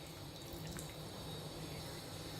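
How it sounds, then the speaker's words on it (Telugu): Water is poured into a pan of softened eggplant curry, a faint steady trickle against a quiet kitchen background, with no one talking. "ఇప్పుడు కొద్దిగా నీళ్ళు వేసుకుందాము"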